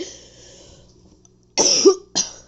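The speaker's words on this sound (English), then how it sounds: "Still trying to make me cough." A person coughs loudly in two harsh, close bursts after a quiet stretch, with a faint throat-clearing rasp before them.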